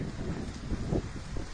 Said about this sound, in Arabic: كما تشاهدون الآن عاصفة ترابية قوية حولت النهار إلى ليل